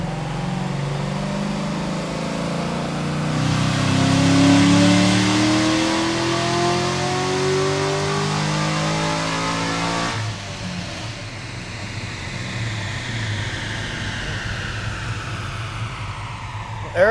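A Corvette C6 Z06 with headers revving hard on a dyno pull, engine note climbing steadily to a peak, then dropping off abruptly into a lower, rough decel rumble, loud and close.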